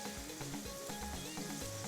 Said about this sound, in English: I'll allow it to do the first fry